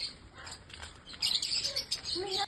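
Birds chirp and tweet around a birdhouse, several small birds calling in quick bursts, fairly faint at first and then busier and louder in the second half, with no talking.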